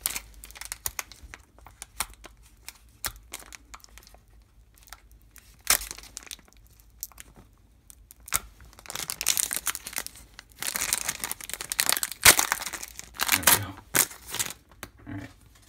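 Score 2012-13 hockey card packs being torn open, with bursts of crinkling foil wrapper and shuffling cards coming in uneven clusters, louder toward the end, with no speech.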